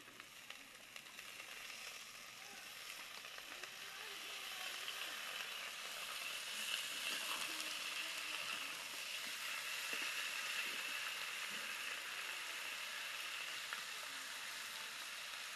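Chopped vegetables and onions frying in a pan make a faint, steady hiss, with the sizzle growing slightly stronger midway and holding at a low, even level.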